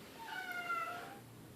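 A house cat meows once, a drawn-out, faint, plaintive call heard close by in a quiet room, with no one talking.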